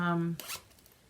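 A project bag's zipper pouch is zipped in a short, close rasping pull that follows a brief spoken word, then quiet rustling.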